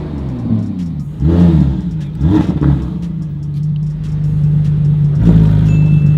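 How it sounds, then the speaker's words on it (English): A Porsche 911 GT3 Touring with a 4.0-litre flat-six revs up in several loud, rising surges, settling between pushes into a steady, droning idle, close to the car. "The fact that they get that much sound out of that engine, it's crazy."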